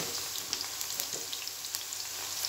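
Okra (bhindi) fries in a pan for a spicy bhindi masala, giving a steady, fairly faint crackling sizzle with small pops scattered through the brief stretch and no one speaking.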